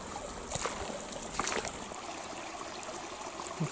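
A forest creek in Salamonie River State Forest trickles and burbles quietly over its bed in spring, faint steady flowing water with a few brief splashy spikes.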